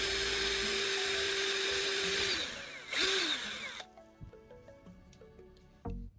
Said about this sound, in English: I'm drilling a hole through it to accommodate the wire.